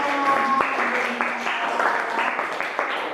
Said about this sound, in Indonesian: Bagus sekali Mbak Siti, tepuk tangan.